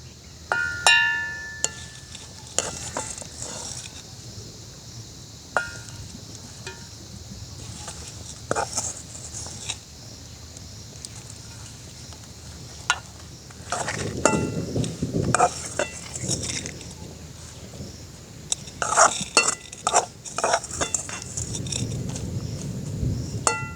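Curry leaves and other ingredients dropped into a mixer jar, scattered clinks and rustling handling noises spread across the stretch, with a denser clatter midway and near the end; a voice talks throughout.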